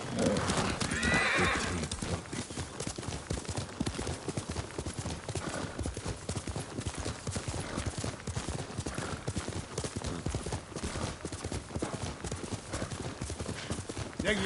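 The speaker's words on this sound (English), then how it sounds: "Horse!" Hoofbeats of a horse in Ghost of Tsushima clip-clop steadily throughout at a brisk gallop, with whinnies and neighs breaking in near the start, loud and close in the game's soundscape.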